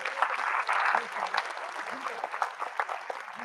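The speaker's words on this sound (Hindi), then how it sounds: "तो खिलाड़ियों के लिए एक बार जोरदार तालियां।" An audience at an academic excellence award ceremony applauds the participants. Crisp clapping swells early, then thins into scattered claps while voices talk over it.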